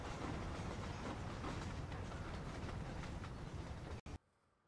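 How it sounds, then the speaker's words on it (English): A train passes close by in the Red Dead Redemption video game, a dense rumbling clatter of rail cars held at steady loudness, then cut off abruptly near the end, leaving quiet ambience. "Let's wait for this train to pass by"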